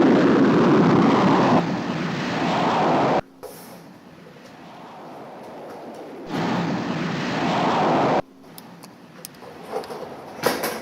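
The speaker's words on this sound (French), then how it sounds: "autorisation de décollage de la navette" A space shuttle launches with a broad, rumbling roar that comes in two long, loud bursts, each cutting off abruptly into a quieter, hissing stretch.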